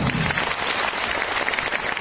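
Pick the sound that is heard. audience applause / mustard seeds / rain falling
audience applause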